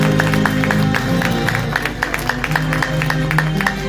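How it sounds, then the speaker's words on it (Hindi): An audience at a Khatu Shyam kirtan in Jhampur claps in rhythmic, steady applause that stays loud and close throughout, with background music droning underneath. "बाबा के नाम पे जोरदार ताली लगा दीजिए"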